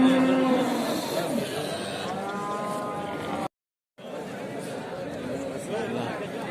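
Cattle moo loudly nearby amid a busy crowd at the Kattakurgan livestock market, with people chattering and talking throughout and a brief silent gap midway.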